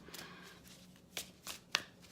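Tarot cards are shuffled by hand, soft and faint, with a few distinct riffling snaps spaced out over a couple of seconds against a quiet background.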